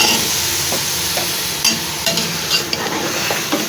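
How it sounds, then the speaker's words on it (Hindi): Potatoes frying with fenugreek in a pan make a loud, steady sizzle close up, with soft scrapes and clinks of stirring scattered throughout and no talking. "मेथी को मैंने अच्छे से भून लिया है। डाल देते हैं आलू,"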